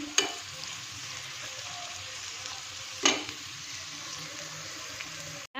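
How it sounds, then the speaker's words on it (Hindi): A spoon stirs cabbage and mixed vegetables in a pot for vegetable pulao, giving a soft steady simmering hiss broken by two sharp clinks against the metal, fairly quiet and close. "जस्ट 2 से 4 बार इसमें चम्मच हिलाना है, ताकि ये अच्छे से मिक्स हो जाए इसमें।"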